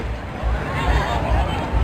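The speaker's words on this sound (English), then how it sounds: "This is the crowd." Crowd murmur at the finish area of a 15k running race, a steady mid-level babble of many voices with no single voice standing out.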